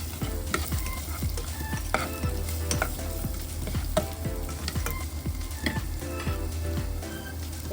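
Onion and ginger sautéing in a pan for mackerel, a steady close sizzle broken by regular scrapes and clicks of a spatula stirring, with no voices.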